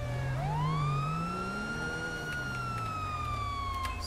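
A police siren in the video game GTA 5 wails steadily with a rising, sweeping tone over a low engine rumble, loud and close throughout.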